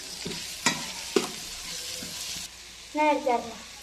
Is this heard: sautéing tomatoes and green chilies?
yes